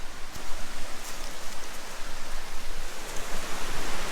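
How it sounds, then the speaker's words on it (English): Steady, loud broadband rush of flowing water fills the scene continuously, close and unbroken, with no voices over it. "I can hear the water"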